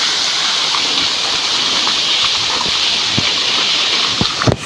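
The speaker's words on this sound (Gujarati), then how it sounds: "જો આ પાણી પડે છે કૂવો ભરાતો રહે છે" Steady rush of water pouring into a deep well, a continuous close splashing wash with a few brief knocks near the end.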